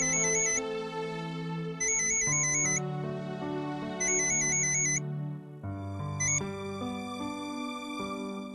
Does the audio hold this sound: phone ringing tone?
yes